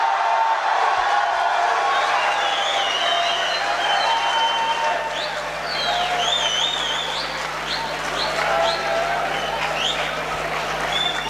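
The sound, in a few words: audience applause at poetry mushaira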